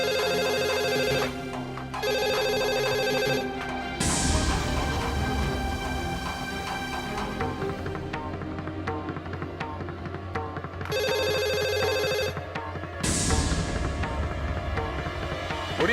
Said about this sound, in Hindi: फोन उठाओ अनु, फोन उठाओ।